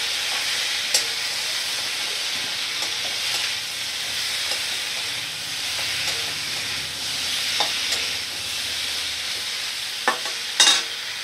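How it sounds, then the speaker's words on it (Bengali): Chopped tomato sautés in a pan over a low flame with a steady, even frying hiss, broken by occasional soft spoon scrapes and one sharper clatter near the end. "আর লো ফ্লেমে রেখে ভালো করে আমি দেখো কষিয়ে নেব"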